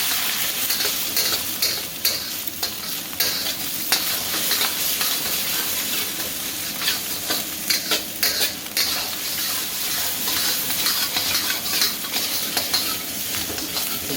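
Eggs hitting hot oil in a wok for drunken noodles, a loud, constant crackling sizzle up close, broken by brief clanks of a utensil against the metal.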